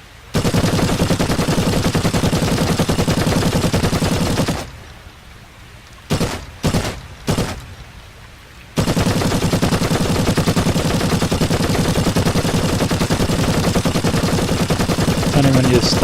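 A machine gun fires long sustained bursts in a video game, a dense rattling roar of rapid shots that breaks off into a few short stutters and then resumes as one continuous stream.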